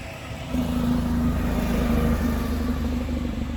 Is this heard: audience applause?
no